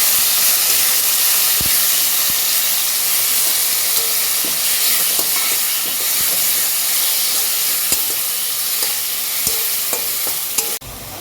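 Mashed leafy greens sizzling and being stirred in hot oil with browned garlic, a steady close frying hiss with scraping stirs throughout, ending in a brief louder burst.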